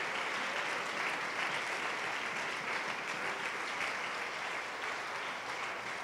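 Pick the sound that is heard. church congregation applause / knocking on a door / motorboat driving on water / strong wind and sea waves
church congregation applause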